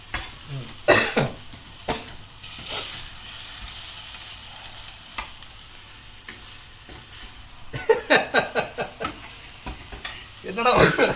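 Chicken thokku masala is stirred in a pan, with scraping strokes and a light sizzle coming in bursts, loudest near the start and in a rapid run toward the end, between stretches of quieter frying.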